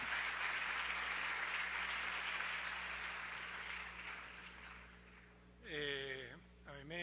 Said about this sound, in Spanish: Larrañaga del hermano país de Venezuela, que siente esos aplausos para darle la bienvenida a nuestro hermoso país